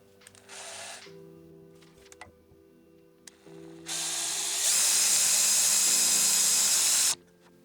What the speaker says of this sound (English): gonna go drill this real quick